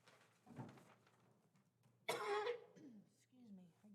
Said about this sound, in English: Excuse me, I get a dry cough.